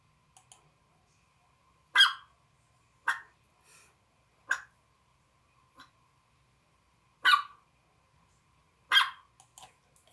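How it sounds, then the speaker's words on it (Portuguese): A small Pinscher dog gives short, high-pitched yaps spaced a second or two apart, sharp and fairly close, with quiet gaps between barks. "Esse é o Pincher, então é um latidinho mais fino."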